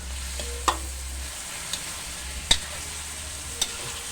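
Mushrooms fry in a pan with cooked beef, a soft steady sizzle with a few sharp scrapes and clinks of ladles stirring at irregular intervals.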